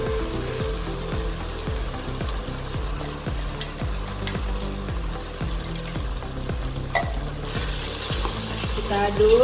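Steady sizzling of blended spice paste frying in a hot pan after shallots have browned, with a regular scraping rhythm of stirring running throughout.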